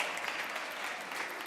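A crowd at a community gathering applauds in a dense, even wash of clapping that holds steady throughout, moderately loud and unbroken, with no talk over it.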